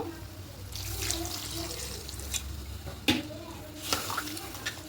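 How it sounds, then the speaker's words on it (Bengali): Water poured into a pan of vegetarian soybean curry, a soft continuous splash and trickle with light clinks of utensils against the pot, close and fairly quiet. "এবার এখানে জলটা অ্যাড করবে জল দেব"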